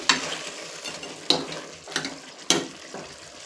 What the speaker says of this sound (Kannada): ಮಟನ್ದು ನೀರೆಲ್ಲ ಬಿಟ್ಕೊಂಡೈತೆ ನೋಡಿ ನೋಡಿ ಈ ನೀರೆಲ್ಲ ತಿನ್ನಬೇಕು ಅಲ್ಲಿ ತನಕ ನೀರನ್ನು ಬೇಯಿಸ್ಕೊತಾ ನೋಡಿ